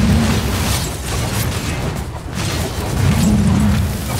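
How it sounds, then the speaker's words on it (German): Siege engines blow up in a Dota 2 Survival Chaos match, a loud, dense run of booming explosions and bursts that rolls on continuously, briefly dips, then swells again, with no talking. "die Siege Engines, die knallen so rein"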